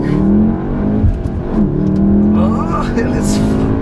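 A 2017 VW Golf R with a 6-speed manual transmission drives along, its engine humming steadily with pitch shifts as it pulls through gears, heard from inside under a person talking.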